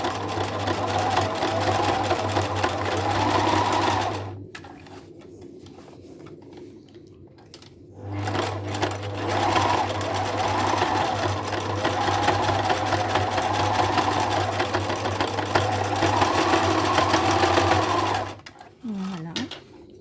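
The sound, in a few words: sewing machine stitching a zigzag on a fabric mask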